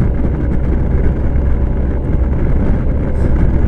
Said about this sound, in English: It's kind of windy out